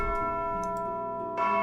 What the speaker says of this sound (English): Soon we'll hear a bell.